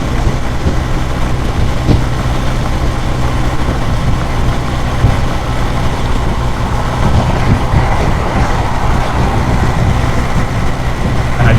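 Kawasaki W800 motorcycle ridden at highway speed while passing, giving a steady, loud, continuous drone of engine and wind rumble throughout, with no talking.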